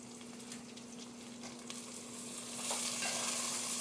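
Red and white onions with yellow and orange peppers sauté in a cast iron skillet, giving a soft, steady sizzle that swells louder and brighter toward the end, with a faint constant hum beneath.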